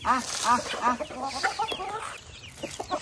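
Chickens cluck in a flurry of short, overlapping calls as they gather to be fed, close by and fairly loud, with soft voices faintly mixed in.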